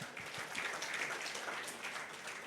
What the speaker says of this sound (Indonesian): Tepuk tangan dulu buat Tuhan Yesus kita.